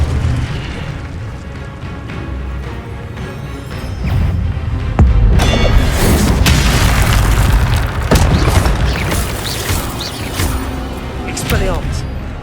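Incendio fire spells cast in Hogwarts Legacy on PS5, heard as loud booming bursts that flare repeatedly over a dense, rumbling game soundscape, with a voice calling out spell names in between.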